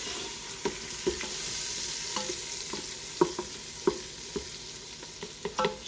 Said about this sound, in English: Just going to cook that until it gets fragrant, maybe 30 seconds.